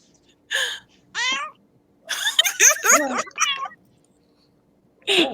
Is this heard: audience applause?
no